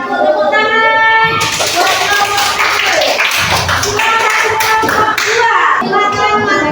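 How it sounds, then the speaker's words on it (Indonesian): A classroom audience of students clapping hands after a presentation, brisk overlapping claps with children's voices chattering among them, close and loud for several seconds. "Tepuk tangan."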